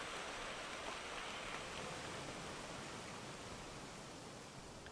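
Steady, dense downpour of rainy-season rain in the Amazon rainforest, a continuous hiss of heavy rainfall holding at an even level throughout with no pauses or voices.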